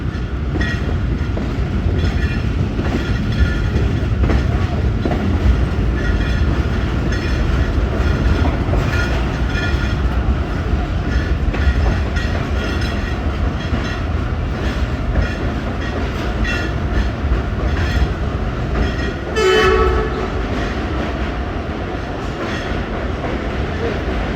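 The Jaffar Express rolls between Attock and Domeli with a continuous heavy rumble of wheels on rails, faint clickety-clack and occasional squeals, steady and close from inside the carriage.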